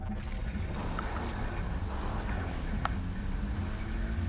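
A motorcycle in GTA Online crosses a field, its engine a steady, fairly quiet low hum with faint wind-like noise and a few small clicks, and no talk.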